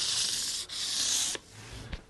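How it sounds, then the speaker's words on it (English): Guitar frets being sanded with 600 grit sandpaper during a re-fret: two long, steady abrasive strokes close up, then a brief lighter pass at the end. "So quick little pass with some 600 grit sandpaper,"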